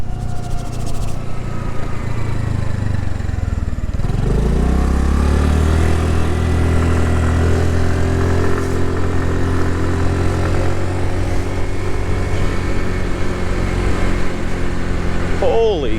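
A 2022 Honda NAVI engine firing up after a kickstart in freezing, windy weather: it catches a few seconds in and then settles into a steady, loud running drone, with wind noise and occasional talk around it.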